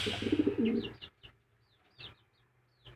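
Soft coos of a white homing pigeon, a male, arrive in short repeated bursts after a brief noisy start, with quiet gaps between the calls, at a pigeon farm.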